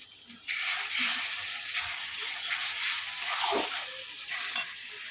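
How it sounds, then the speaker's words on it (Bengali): Spice paste (masala) for chicken kosha frying in a pan and being stirred, a close, continuous sizzle that swells and dips with a few soft scraping strokes and no speech. "বন্ধুরা, আমার মশলাটা কষানো হয়ে গেছে"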